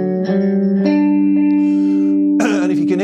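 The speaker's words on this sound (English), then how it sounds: "I've got a little bit of echo on me amp there" Electric guitar riff built on a root-position chord on the fifth string, played through an amp with echo, sustained ringing notes trailing off in repeats before a fresh strummed attack near the end.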